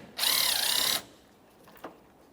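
A Phillips-head screw backed out of a 2003-2009 Toyota Corolla bumper cover with a power driver: one loud, high whirring burst of under a second, then quiet with a faint click.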